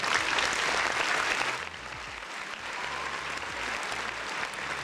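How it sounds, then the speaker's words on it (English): Crowd applause swells loudly at first, then drops to a softer, sustained clapping that carries on steadily to the end. "Round of applause for the folks in the chat."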